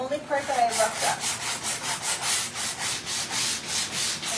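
Sandpaper rubs the edges of a vintage wall sconce in steady, evenly spaced back-and-forth strokes, close and clear with no talking.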